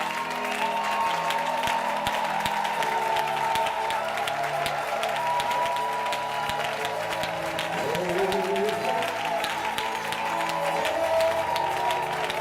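A church congregation at a worship service applauds continuously, a dense steady wash of clapping with cheering and voices mixed in that holds for the whole stretch.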